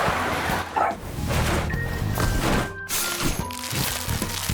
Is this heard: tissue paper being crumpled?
no